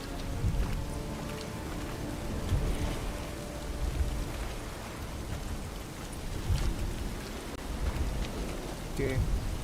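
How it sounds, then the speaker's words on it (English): Rain falling in the video game Witcher 3: a steady, dense hiss with low rumbling swells throughout, fairly loud and continuous. "Looks like rain."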